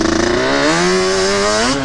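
A Yamaha Banshee ATV engine revs loud and close, its pitch climbing in one sustained, buzzing run with no one speaking.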